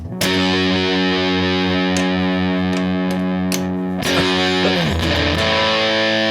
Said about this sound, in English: he got me the Electro Harmonix Big Muff op amp